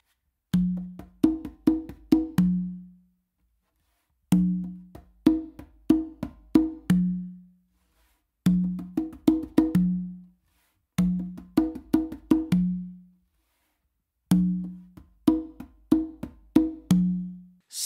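Repeating conga pattern starting from the tumba, running through ghost notes and landing back on an open tumba tone, heard as five evenly spaced phrases of quick hand strikes with brief gaps, close and unaccompanied.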